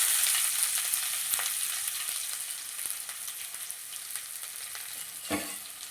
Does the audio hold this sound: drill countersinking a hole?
no